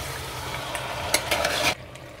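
Beef chops with masala fry in a cooker, a soft continuous sizzle with a few sharp scraping stirs of a utensil near the end before it quiets.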